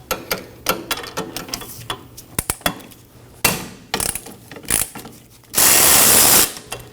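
A ratchet on a wobble extension works the 14mm caliper bracket bolts on a 2003-2006 Subaru Baja, giving irregular close metallic clicks and clunks, then a sustained burst of rapid ratcheting near the end.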